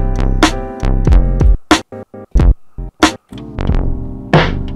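Choppy sampled music from a Teenage Engineering EP-133 K.O. II sampler, stuttering and gated in short repeated bursts with sudden gaps, loud and rhythmically broken up as the hold effect engages.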